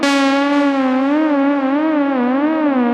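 A Diva software synthesizer holds one sustained, loud tone whose tuning is modulated by an LFO, so the pitch wobbles slowly and unevenly for a detuned, wonky sound with a bright, buzzy edge throughout.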